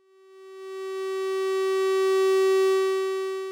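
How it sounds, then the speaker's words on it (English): Two nearly matched electronic tones from a no-input mixing board blend into one sustained, buzzy hum that swells smoothly in loudness, holds, then eases slightly, alone and steady. "When 2 voices are tuned to nearly the same pitch, you get a slow, rhythmic interference pattern between those 2 voices."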